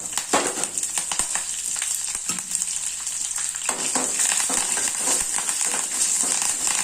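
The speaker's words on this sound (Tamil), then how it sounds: "நம்ம தேங்காய் சாத்துக்கு கடுகு தாளிச்சிருக்கோம் இப்போ வந்து முந்திரி பருப்பு போட்டுக்கலாம்" Mustard seeds tempering in hot oil for coconut rice, with cashews, green chilies, ginger and curry leaves tossed in; steady sizzling and frying with crackling pops and occasional stirring clinks, close and continuous, no talk.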